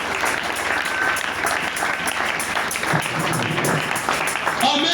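A church congregation applauds and cheers steadily for Jesus Christ during a sermon, the dense clapping sustained and loud throughout.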